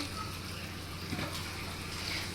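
Water pours steadily into a bowl of puffed rice to soak it, a continuous soft splashing and gushing rush that stays even throughout, close and alone with no talk.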